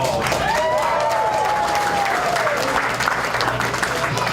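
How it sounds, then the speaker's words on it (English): A crowd claps steadily at a community rebuilding event in Tuscaloosa, Alabama, a thick continuous patter of applause at even loudness throughout. "So let's give him a round of applause."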